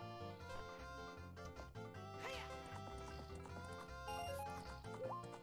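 Epona, the horse in Zelda: Ocarina of Time, trots with steady clip-clop hoofbeats mixed under loud, continuous game music.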